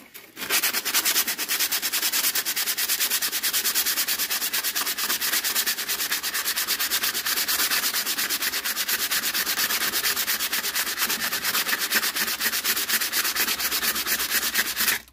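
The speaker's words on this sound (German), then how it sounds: "So gut old Schleifpapier." Sandpaper scrubs rapidly back and forth over sheet metal, a loud, continuous rasping hiss with a fast, even rhythm, heard alone.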